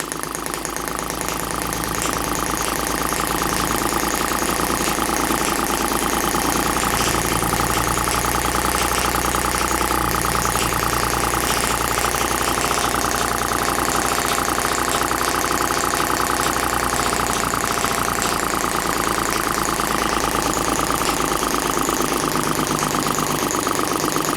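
A small Microcosm M12 model engine runs with a steady buzzing drone throughout, close and loud, without a clear audible stop; no voices.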